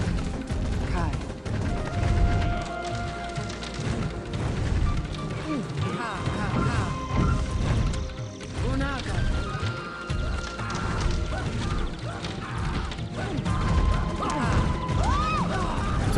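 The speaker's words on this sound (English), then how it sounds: "So as you can see, fireworks can be really disturbing." Fireworks crackle and bang in the strategy game Populous: The Beginning, dense bursts of pops and crashes layered with game effects and music, with someone talking throughout.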